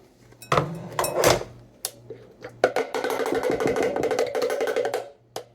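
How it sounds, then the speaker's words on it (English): Sauce is scraped and poured from a container into a bowl, with close clattering knocks, a sharp clink, then a longer stretch of wet scraping and sliding, without any talk. "So now we're going to transfer our sauce to our bowl"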